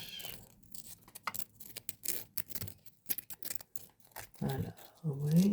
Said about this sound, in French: je lime bien dans tout partout